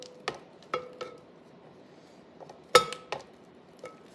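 A utensil scraping buttercream around a mixing bowl, giving a handful of sharp, separate clinks and knocks against the bowl with quiet pauses in between.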